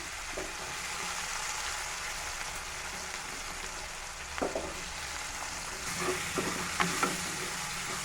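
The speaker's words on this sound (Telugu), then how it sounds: "ఇదే ఆయిల్లో మనం కోసి పెట్టుకున్నటువంటి ఉల్లిపాయలని కొద్దిగా వేసుకుందామండి." Chopped onions frying in oil with a continuous moderate sizzle, broken by a few soft stirring clinks and scrapes toward the end.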